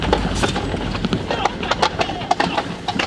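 Hooves of a hunting horse clip-clop in quick, uneven strikes close by, the horse moving about restlessly while a voice speaks over it.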